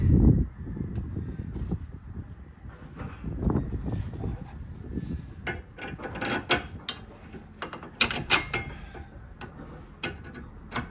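A ratchet tightens the sway bar end link bolts on a 2008 Kia Sportage, with repeated close clicking strokes and metallic ticks over low workshop rumble.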